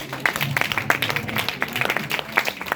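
A crowd at a Hindi poetry recital claps in a dense, uneven burst of applause at moderate loudness.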